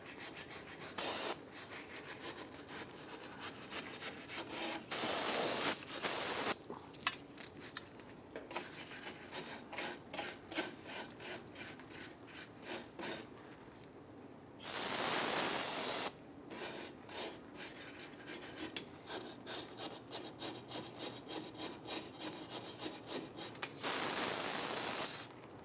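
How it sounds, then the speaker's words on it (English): A bristle brush scrubs debris off a drum brake backing plate on a 2000-2006 Toyota Tundra, with rapid close rhythmic strokes in bursts, broken by a few louder blasts of spray, and no talking. "I'm going to use a bristle brush. I'm trying to clean up any debris that's on this."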